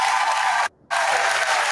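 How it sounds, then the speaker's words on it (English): A studio audience gives actor Danny De La Paz a round of applause on a talk show, a loud, dense wash of clapping interrupted by a short silent gap. "I got to give him a round of applause."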